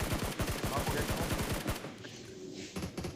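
Rapid automatic gunfire from a mobile battle-royale shooter, a long rattling burst of close, loud shots aimed at an enemy's head, cutting off abruptly and followed by quieter game ambience.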